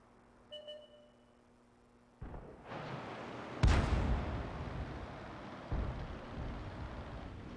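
An M44 self-propelled artillery piece fires a missed shot in a video game: a sharp, loud boom followed by a long rumbling tail, then a second, softer thump, with a low engine drone beforehand.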